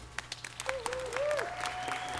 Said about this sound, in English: one more huge round of applause for these phenomenal women